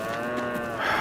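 Cows in Farming Simulator 22 give a single, close, sustained moo lasting about a second.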